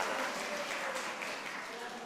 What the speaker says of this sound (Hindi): ताली बजाओ भाई इसके लिए